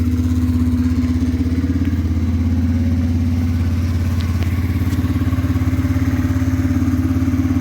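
A 2004 Yamaha Kodiak 450 ATV engine runs steadily just after a cold start, a loud, close, even idle with a rhythmic low thrum that holds unchanged throughout, with no voices.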